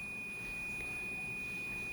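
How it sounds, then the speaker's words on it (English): Kitchen oven sounding a steady, thin electronic tone, one sustained beep held for the full length, faint and alone in a quiet room. "that's my oven beeping"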